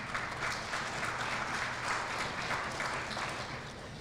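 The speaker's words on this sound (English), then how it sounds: "we'll keep clapping for them" Steady audience applause fills a celebration marking 30 years of the S.U.C.C.E.S.S. Approach, a dense, even wash of clapping that runs the whole time before tapering slightly at the end.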